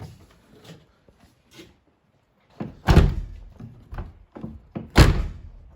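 Two solid car door thunks from an Audi B5 wagon, a heavy closing slam followed later by another, with quieter clicks and rattles in between.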